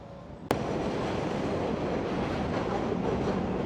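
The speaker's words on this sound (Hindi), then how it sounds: "अभी ट्रेन गुजरी है ऊपर से, काफ़ी लड़खड़ा रही थी ट्रेन" An elevated subway train passes overhead in Jackson Heights, Queens, arriving with a sharp bang and then a loud, continuous roar of wheels rattling on the elevated track, with no talking.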